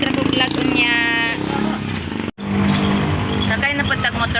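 Motorcycle engine running close by, revving and changing pitch with a brief cutout midway, then resuming with a rough, steady idle and speech-like sounds over it.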